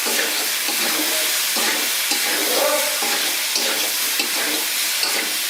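Pre-fried cauliflower and potato sautéed with spices in a pan for a vegetarian curry sizzle loudly and steadily, with repeated scraping stirs adding a rough rhythmic texture; nobody speaks.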